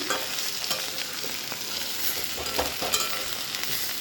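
Shredded cabbage is stirred and fried in a pan, giving a dense, constant sizzle with scattered soft scrapes and clinks from the stirring, close and fairly loud throughout.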